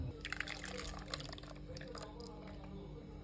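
Ground coconut masala paste is poured into a clay pot for a tamarind fish curry, making soft, wet splats and drips over a low steady hum, quiet and close.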